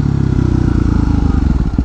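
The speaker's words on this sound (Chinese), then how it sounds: "好，再降档。" A motorcycle engine thrums steadily and close by while downshifting, with a rapid, even pulse of firing beats and a rough rumble, no talk over it.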